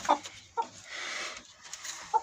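A rooster clucks and squawks in a few short, sharp bursts separated by pauses, with a rough, agitated call in the middle, close to the listener.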